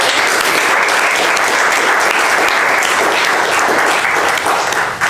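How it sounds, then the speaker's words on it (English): A crowd at a mental health panel talk gives the panelists a loud, sustained round of applause, with thick continuous clapping that barely fades before the end. "I'd like to give another round of applause for our panelists."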